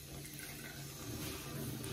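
Steady broadband rush of water running from a bathroom sink tap during face washing, continuous and fairly close, with no talk over it.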